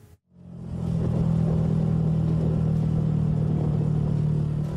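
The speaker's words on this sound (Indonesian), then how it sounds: "Inilah antrian truk sampah milik Dinas Lingkungan Hidup Kota Bekasi saat hendak membuang sampah ke TPA Sumur Batu" A garbage truck idles in a queue at the Sumur Batu landfill in Bekasi, a deep, steady diesel rumble that starts after a brief gap and holds loud and close throughout, with no talking.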